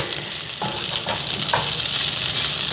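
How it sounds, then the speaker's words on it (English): Rice and leftover beefless beef pieces sizzle steadily in a frying pan, with a few soft scrapes and clacks from stirring over the constant frying hiss. "I'm gonna add in the rice and those leftover beefless beef pieces, just so those get warmed through, and just kind of give everything a stir"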